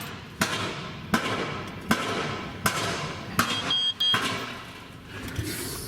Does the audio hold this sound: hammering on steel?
yes